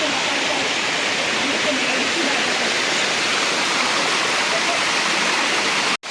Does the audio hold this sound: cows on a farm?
no